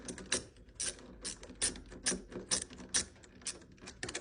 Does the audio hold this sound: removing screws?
yes